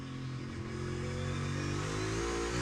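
A NASCAR Cup Series race car engine at the Indianapolis road course rumbles and rises on the throttle, a dense steady drone that builds slightly over a few seconds.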